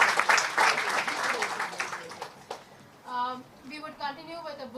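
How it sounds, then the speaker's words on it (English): An audience at a book launch applauds loudly and briefly for a couple of seconds, then the clapping fades out and a voice starts speaking close by. "So big round of applause for doing that."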